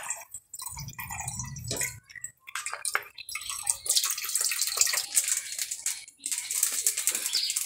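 Liquid milk poured into a cooking pot with bay leaves for egg korma, a continuous splashing pour heard close and alone, with some clinks and stirring sounds.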